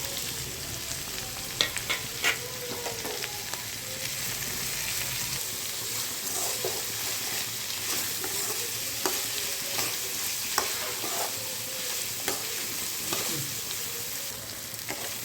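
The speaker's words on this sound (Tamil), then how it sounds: "கொஞ்சம் நேரம் வெங்காயம் வதங்கட்டும் நல்லா" Onions sizzling and frying in a pan for Kerala-style sardine fish curry, a steady crackling hiss throughout with occasional stirring scrapes and clinks, close and alone without talk.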